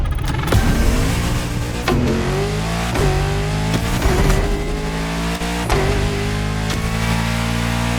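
Bugatti engine revving hard in The Crew Motorfest on the roads of Maui, loud and close, climbing through repeated upshifts with sharp breaks between gears, no talk over it.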